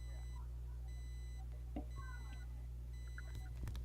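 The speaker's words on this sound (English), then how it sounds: "It sounds like an alarm." Electronic alarm beeping like a microwave or alarm clock that keeps going, short high-pitched beep trains repeating at regular intervals, faint and steady over a low hum with occasional quiet sounds.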